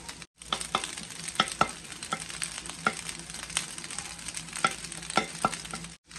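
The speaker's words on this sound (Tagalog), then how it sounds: "Haluin lang natin ng mabuti." A spatula stirs chicken fried rice with scrambled egg in a hot pan, giving repeated scraping clicks over a constant low sizzle, each stroke close and distinct.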